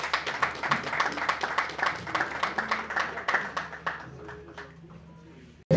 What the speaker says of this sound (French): est-ce qu'on peut juste applaudir pour ça?